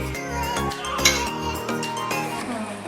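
Carrots and sugar stirred in a pan for carrot halwa, a spoon scraping and clinking against the metal in a steady rhythm over a continuous low hum, close and fairly loud, with no talking.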